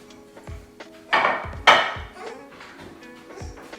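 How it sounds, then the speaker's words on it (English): A metal brownie pan clanks and rattles as it slides into an oven, with a couple of sharp knocks and scrapes of metal on metal, close and brief amid small handling noises. "let's put it inside the oven"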